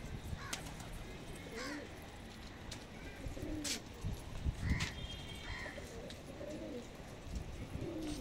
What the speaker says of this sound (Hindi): दिखाएंगे आपको लड़ैया कबूतरों की